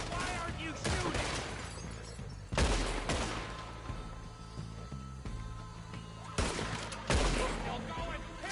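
Gunshots in Red Dead Redemption 2, several loud sharp reports in clusters over a steady background of gunfire, with voices shouting in between.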